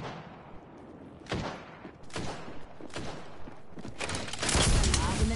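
Gunfire in Apex Legends: several bursts of loud shots and thuds arrive in clusters, building to a heavier, denser volley near the end, close and prominent.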